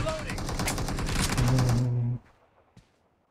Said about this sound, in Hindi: शॉट गन मार ले